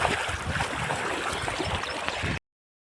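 Someone wades through deep floodwater covering a road beside soybean fields, a continuous close sloshing and churning of water with no voices, cutting off abruptly.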